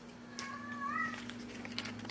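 A cat lets out one drawn-out, rising-and-falling meow in a home kitchen where salmon is cooking, fairly faint and mid-distance over a steady low hum.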